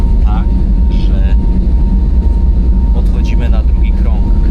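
A loud, steady airplane engine roar fills the cabin during a go-around after touchdown, a continuous low rumble, while faint voices murmur underneath.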